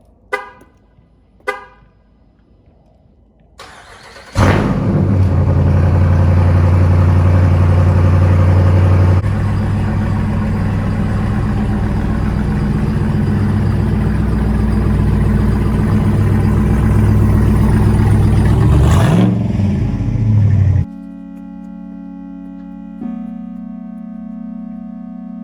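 A Jeep Rubicon 392 V8 fires up after a couple of faint clicks and runs with a loud, deep, steady rumble for about fifteen seconds before cutting back to a quieter, humming idle, heard from a short distance.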